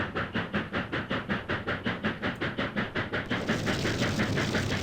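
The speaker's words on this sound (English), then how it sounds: "You gotta love steam trains." A steam locomotive running in the Trainz railway simulator, with regular rhythmic chuffs pulsing about four times a second before giving way to a continuous hiss of steam and rumble.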